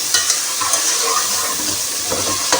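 Water is poured into a cooking pot of rice and stock for beef pulao, giving a steady splashing hiss with small bubbling pops, close by and without talk.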